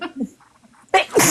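A single sharp human sneeze bursts out loudly near the end, after a moment of quiet talk and background murmur.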